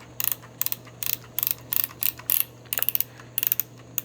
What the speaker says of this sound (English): So I just took a picture.